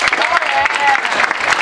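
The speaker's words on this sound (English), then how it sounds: "give a round of applause for these awesome guys right here" An audience applauds at a Power Rangers convention panel, a dense, steady patter of many hands clapping close by, with voices mixed in.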